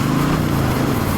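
Motorcycle engine in cold weather droning steadily while stuck between gears, a loud continuous buzzing hum with no break over a brief moment.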